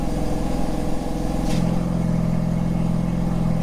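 A BMW M4 engine with an aftermarket midpipe idles with a deep, steady rumble and throaty exhaust note, the tone shifting slightly lower and fuller partway through as the exhaust valves open.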